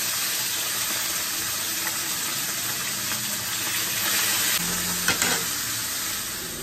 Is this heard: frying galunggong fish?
yes